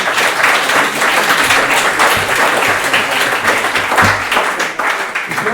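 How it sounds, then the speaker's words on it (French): A lecture audience applauds loudly after a talk on Emile Guillaumin as a journalist, with sustained dense clapping from many hands, close and steady throughout. "je pense qu'on peut applaudir de nouveau"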